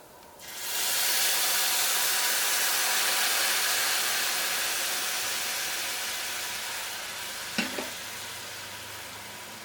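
Jaggery syrup poured into a pan of rice flakes fried in ghee sizzles and hisses loudly and steadily for several seconds, with a brief stirring clatter near the end.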